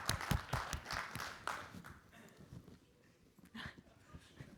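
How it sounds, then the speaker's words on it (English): Scattered clapping from a small audience at an EVE Fanfest presentation, brisk at first then thinning out to a few claps. "give a round of applause."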